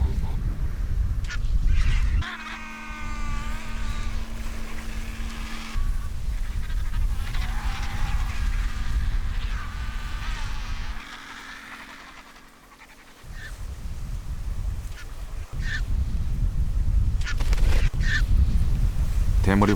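Scavenging birds, including marabou storks, gather with jackals at a lion's giraffe kill on the African savanna: loud overlapping honking and squawking calls, with panting and rustling, continuous and close throughout.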